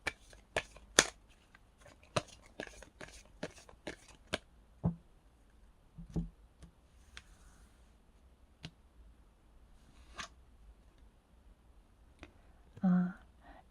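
Tarot cards from a Romance Angel deck being drawn and shuffled, giving a scatter of soft, close papery snaps and slides, most dense early on and then sparse, with no talking.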